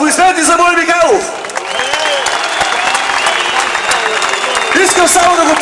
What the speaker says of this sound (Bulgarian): аплодисменти за Боби Михайлов!